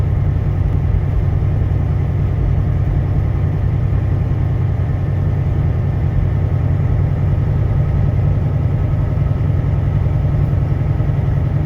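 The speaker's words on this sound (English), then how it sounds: "Engine brake." Truck engine brake drones loudly and steadily on an icy road, a constant low, rumbling engine roar that holds without breaks, heard alone without voices.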